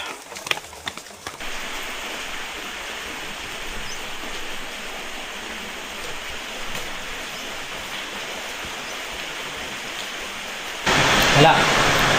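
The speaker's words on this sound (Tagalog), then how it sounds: "Lakas pa rin ang ulan." Heavy rain pours steadily as a dense, unbroken hiss, briefly preceded by a few knocks, and grows louder and brighter near the end.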